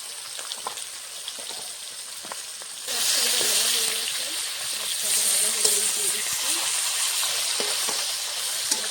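Fish pieces hitting hot mustard oil in a wok: quiet kitchen ticks, then a sudden loud, steady sizzle and hiss that continues close up, with a voice speaking over it.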